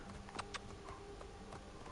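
Horse hooves clip-clopping in Assassin's Creed Origins, a quick run of light, close hoofbeats at a steady gait, faint overall.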